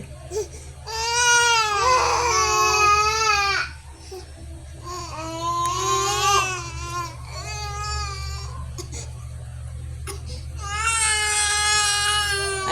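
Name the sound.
baby crying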